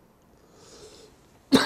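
An elderly retired minister gives a single sharp cough at the end, loud and close after a near-silent stretch.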